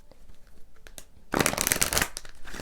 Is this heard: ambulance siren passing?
no